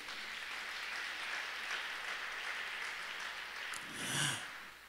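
A church congregation applauding the Lord, a steady wash of clapping from many hands held at an even level throughout, with a brief brighter swell and some cheering near the end.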